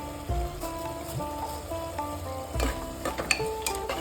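Sliced onions with Kashmiri chilli powder, spices and a pinch of sugar sizzle steadily in a pan, with occasional stirring scrapes and soft clinks over the constant frying hiss.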